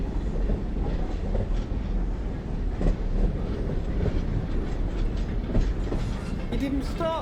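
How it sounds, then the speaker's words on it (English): A train runs through a station platform without stopping, a loud, close rumble with rhythmic clatter of wheels and a brief squeal near the end, steady throughout. "Train now approaching platform 1. Does not stop"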